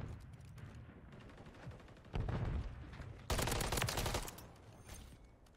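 Rapid automatic gunfire from the Call of Duty: Modern Warfare 3 video game, fired in two loud sustained bursts over a steady background of game noise.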